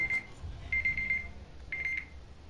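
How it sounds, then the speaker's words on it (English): A loud phone or clock alarm beeps in three short bursts of rapid electronic pips, separated by brief gaps, over a low background hum with no talking. "Sorry, that was my alarm."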